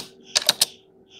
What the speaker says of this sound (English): just typing path equal to